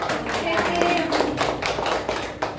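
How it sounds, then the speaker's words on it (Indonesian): A classroom of students clapping for a classmate, a short steady patter of hands close by with a few sharper claps, a voice faintly under it. "Kasih tepuk tangan untuk mbaknya."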